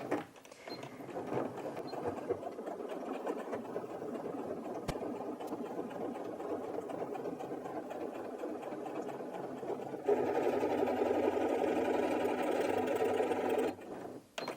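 A Janome 230DC sewing machine runs steadily, stitching through eight layers of fabric, a continuous close mechanical whir that shifts to a louder, heavier pitch near the end before stopping.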